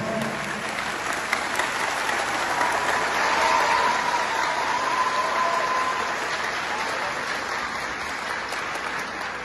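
An audience applauds a speech with sustained, even clapping that holds steady across the whole stretch, filling the hall without any talk over it.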